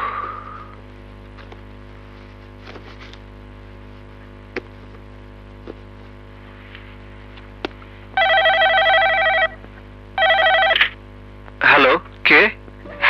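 A telephone rings in two long electronic bursts over a quiet room hum, followed by a couple of shorter, brighter tones. Faint clicks and bumps come before the rings.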